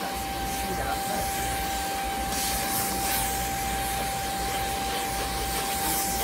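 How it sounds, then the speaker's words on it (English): An Ivittypet pet grooming kit vacuum runs at full power with a steady, loud whooshing hiss and a constant whine, continuous throughout. "I'm going to turn the vacuum all the way up."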